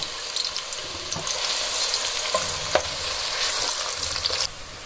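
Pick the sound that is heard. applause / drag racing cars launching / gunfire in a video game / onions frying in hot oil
onions frying in hot oil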